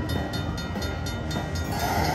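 A train sound effect plays on a Luxury Line slot machine, a steady rumbling rail noise with a faint rhythmic clacking, heard alone and without talk.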